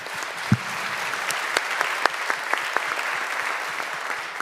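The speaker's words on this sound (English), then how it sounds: "Round of applause, please." Audience applauding at a panel discussion, a steady wash of clapping hands with a few sharper individual claps standing out, close and sustained throughout.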